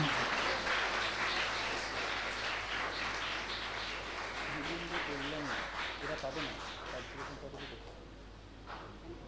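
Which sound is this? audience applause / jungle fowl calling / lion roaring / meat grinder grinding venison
audience applause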